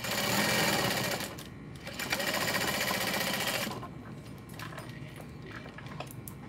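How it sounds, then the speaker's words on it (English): A sewing machine runs in long bursts, top stitching along the outer edge of a backpack, loud and close with a brief pause between passes and a softer, steadier stretch toward the end. "And then I'm just top stitching along the outer edge on both sides."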